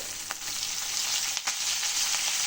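Curry leaves crackle in hot oil in a pan while cooking rava upma, a loud, dense, continuous sizzle broken by a couple of short sharp pops and stirring scrapes.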